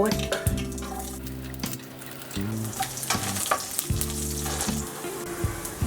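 Garlic fries in avocado oil with mustard, coriander and cumin seeds, sizzling loudly and steadily up close while a spoon scrapes and stirs the pan in repeated strokes.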